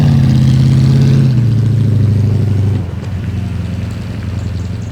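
A fully restored classic BMW 507 engine runs loud and close with a smooth, steady drone, its revs stepping down twice as it settles toward a lower, rougher idle.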